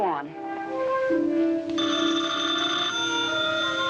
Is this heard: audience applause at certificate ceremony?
no